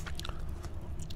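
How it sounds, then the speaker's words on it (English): Gum chewed close to a whispering microphone, with soft wet smacks and crackly bites repeating quickly over a steady low rumble, no speech. "why the heck is this guy whispering and chewing gum?"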